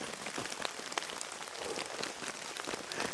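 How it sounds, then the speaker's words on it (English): Steady rain patters on a camping tarp over a hammock at night during a rainstorm, a dense, even hiss of close drops with scattered sharper taps, continuous throughout with no talking. "You can see the rain's coming down just enough."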